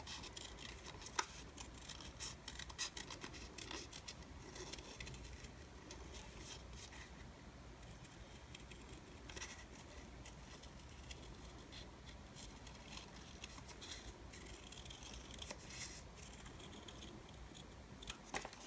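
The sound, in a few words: scissors cutting around a paper ornament sticker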